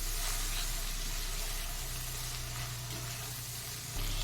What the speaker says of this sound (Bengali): খুব ভালো করে আমি আবারও কষিয়ে নেব